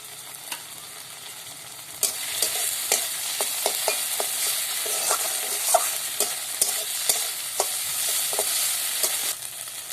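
Steady sizzling of ginger, garlic and onion paste frying in a hot pan, with frequent clinks and scrapes of a spoon stirring throughout, close up and fairly loud.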